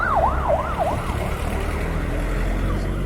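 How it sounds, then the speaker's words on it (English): Ambulance siren on a road in the Philippines, its wailing up-and-down tone loud at first and fading quickly as the vehicle speeds past, over steady traffic rumble. "Looks like we got an ambulance coming through strong."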